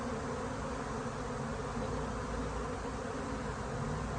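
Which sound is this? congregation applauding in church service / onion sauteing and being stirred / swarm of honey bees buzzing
swarm of honey bees buzzing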